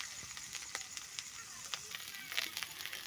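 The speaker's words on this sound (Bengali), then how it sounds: "এদিকে মশলাটাও ভাজা হচ্ছে।" Spices frying in oil in a pan while cooking a Bengali chanda fish curry with potato and pointed gourd, giving a steady close sizzle with small crackles and pops and a few sharper spatters.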